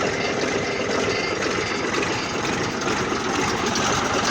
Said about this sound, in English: I've got a little tiny bit of an exhaust blow, which we've been meaning to fix for some time